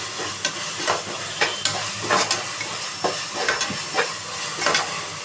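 Tomatoes frying in oil in a pan while a spoon stirs them, giving a steady close sizzle broken by about eight sharp scraping strokes at an irregular pace, with no talking.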